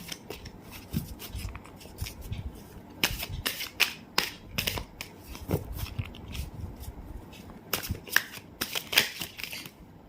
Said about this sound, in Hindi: सॉरी, बहुत ज़्यादा कार्ड निकल रहा है, क्या हो रहा है आज।